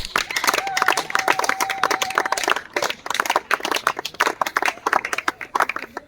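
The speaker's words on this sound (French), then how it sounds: "Est-ce qu'on peut acclamer pour le Seigneur?" Congregation at a water baptism in Mbandaka claps and cheers for the Lord, with dense, sustained applause and voices all the way through. One sustained tone briefly rises above the crowd.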